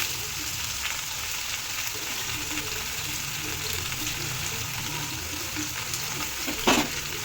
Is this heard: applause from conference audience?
no